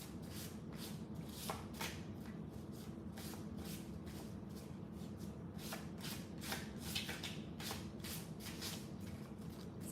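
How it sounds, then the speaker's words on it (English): A small deck of card-reading cards is shuffled by hand, giving a quiet, steady run of soft papery riffles and flicks close by with no voices. "Not that many cards, so the shuffle is awkward"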